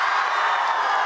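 A crowd at a school magic show applauds a teacher, with dense, steady clapping filling a brief stretch at close range and no pauses.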